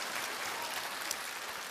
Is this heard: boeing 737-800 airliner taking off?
no